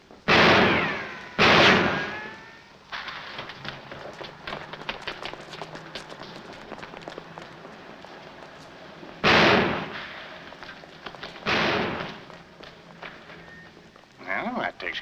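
Sharp gunshot-like bangs in a 1947 comedy film: two loud cracks near the start and two more later, separated by stretches of background score and scuffling noise.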